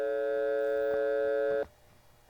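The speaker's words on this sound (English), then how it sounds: "make sure that the frequency is on 560 hertz" A steady, synthesized 560 hertz tone without pulse, made as part of a Euro police siren synth, holds loud and even with bright harmonics for about a second and a half, then cuts off abruptly into near silence.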